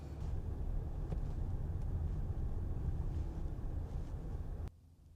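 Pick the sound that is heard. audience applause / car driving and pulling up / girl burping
car driving and pulling up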